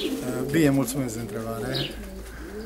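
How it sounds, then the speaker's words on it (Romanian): Racing pigeon held in the hand at a Romanian loft, soft low cooing under someone talking nearby. "să țineți în mână un porumbel foarte valoros în crescătoria dumneavoastră"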